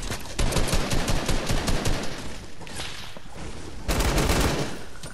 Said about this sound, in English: Where's that sniper coming from? I know that's not you guys shooting.